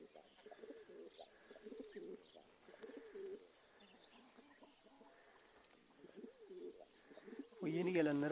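Pigeons coo softly and repeatedly while someone talks over them during feeding, and a sudden louder flutter or scratch of birds breaks in near the end.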